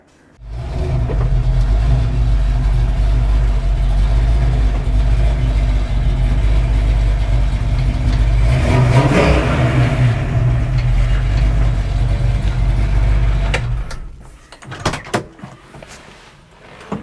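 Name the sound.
classic Ford Mustang engine idling and revving while turning around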